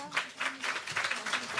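Audience applause in a church service hall, a short burst of scattered hand clapping at moderate level.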